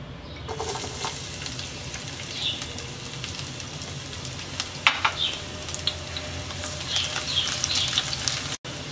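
Chopped garlic and dried red chilli fry in hot oil, a steady close crackling sizzle with scattered sharp pops and a few stirring clicks, for stir-fried jute leaf.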